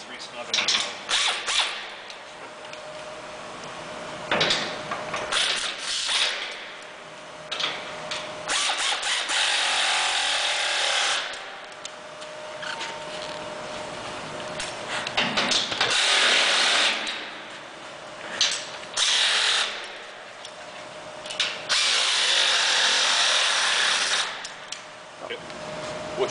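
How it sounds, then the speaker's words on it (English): A ratchet re-snugs bolts on a 2016 Heatmor outdoor furnace weldment, repeated bursts of rapid clicking and metallic scraping close by, separated by short pauses. "after we tightened up our bolts"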